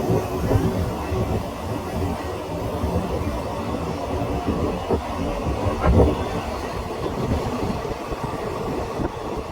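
A train rumbles along with a low, steady rattle and occasional clanks, heard from close by as it arrives at Tambaram railway station, with no talking.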